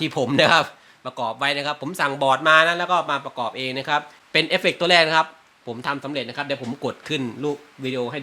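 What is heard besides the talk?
No distinct noise like a dog, phone or traffic.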